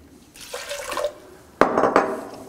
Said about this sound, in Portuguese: Vamos pôr aqui um bocadinho de água.